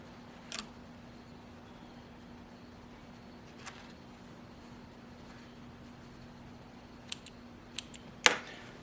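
Scissors snip loose threads on a freshly sewn pair of pajamas, a few sharp, quiet clicks spaced apart over a near-silent room, the last cut slightly louder.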